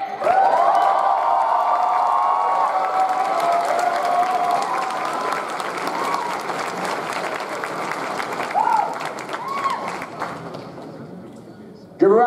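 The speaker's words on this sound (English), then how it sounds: "How do you guys feel about Jamie Ray?" Sustained audience applause and cheering at a comedy show at an anime convention, loud and continuous with whoops rising above the clapping.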